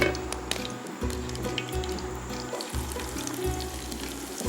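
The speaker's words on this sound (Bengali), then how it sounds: "দিচ্ছি সর্ষের তেল, বেশি না, 1 টেবিল চামচ পরিমাণ, খুবই অল্প" Mustard oil, about one tablespoon, poured into a pan for cooking spinach with prawns, a soft liquid trickle with faint sizzling over a low, rhythmic background hum, close and steady.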